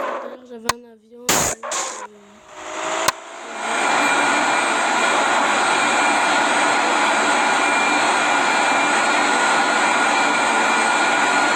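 A video game's airplane engine starts after a few seconds of brief clicks and tones, then settles into a loud, steady jet-like roar that continues to the end.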